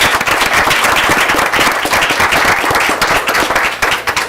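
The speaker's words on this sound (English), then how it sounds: "Let's give him a round of applause." Loud, dense applause from an audience fills a school district board meeting, steady sharp clapping throughout with no pauses.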